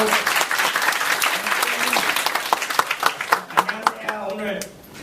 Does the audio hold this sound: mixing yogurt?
no